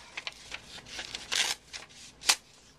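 A book page is torn by hand in short, crisp rips, a run of quiet papery tears close by that ends in one sharper, louder rip, with no talking.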